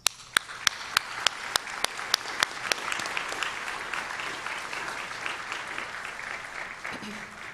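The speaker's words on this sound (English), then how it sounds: "Please join me in welcoming them with a round of applause." Applause from a commencement audience welcoming faculty at a health sciences university ceremony, opening with a few sharp, distinct claps that swell into a steady, moderately distant wash of clapping.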